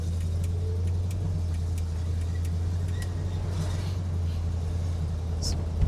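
A Plymouth GTX with a 440 Six Pack V8 idles with a steady, deep low rumble that holds evenly throughout, running close by while people talk over it now and then.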